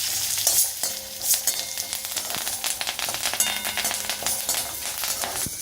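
Urad dal, dried red chillies and curry leaves sizzling and crackling in hot oil in a pan, with irregular spatters and stirring scrapes over a steady close fry and no voices.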